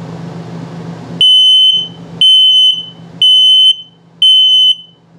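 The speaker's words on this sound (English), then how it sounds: "Here comes carbon monoxide and low battery alarm." A carbon monoxide alarm in a 2021 Flagstaff Classic 8529IKSB RV sounds four loud, shrill electronic beeps at a steady pace, each about half a second long, with soft background noise between them.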